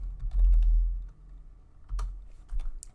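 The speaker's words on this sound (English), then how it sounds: "you could click into the formula bar and then start typing" Typing on a computer keyboard while working in an Excel spreadsheet: a few sparse, close key clicks and taps with low thumps between them.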